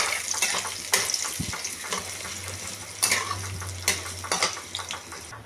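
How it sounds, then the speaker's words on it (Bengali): Moong dal frying in a pan, a light continuous sizzle with repeated scraping stirs and utensil clinks at irregular intervals, close and without talking. "মুগ ডালটা ঠিক এরকম ভাজা হচ্ছে"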